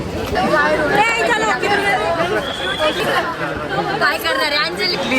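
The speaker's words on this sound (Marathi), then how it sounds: "खूप गर्दी झाली इथं गर्दी गर्दी गर्दी" A crowd of college students packed around a signature day board chatters close by, a dense and continuous babble of many overlapping voices.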